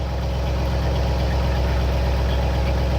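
A Ford F100 engine fitted with Holley Sniper fuel injection idles steadily, a loud, even low rumble with a regular pulsing beat that holds throughout, no voices.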